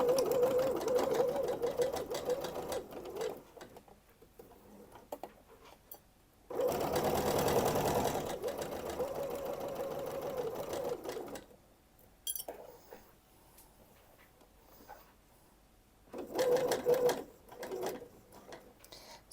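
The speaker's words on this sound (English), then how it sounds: "So we have half of our neckline here pinned and ready to sew. So we'll sew this first" Domestic sewing machine stitching the pinned neckline of a dress bodice, its steady rapid mechanical whir running in several bursts of a few seconds each, separated by brief pauses, close and fairly quiet.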